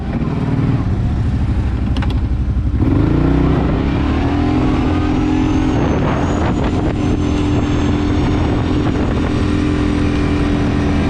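Can-Am Outlander ATV fitted with new mud tires pulls away on a test ride, its engine droning steadily and rising in pitch as it revs and accelerates, loud and close throughout, with no talking.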